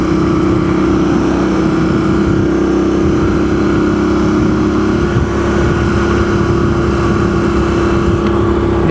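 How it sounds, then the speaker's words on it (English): A motorcycle cruises along Vermont Route 14 in summer with a steady, loud engine drone and heavy wind rush that hardly change over the stretch of road. "I think this motorcycle is doing well"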